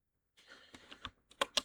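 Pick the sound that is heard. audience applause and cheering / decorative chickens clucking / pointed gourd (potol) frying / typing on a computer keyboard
typing on a computer keyboard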